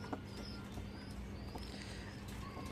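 Soft, low pigeon cooing murmurs steadily in the background, with faint chirps and light pattering, no talk.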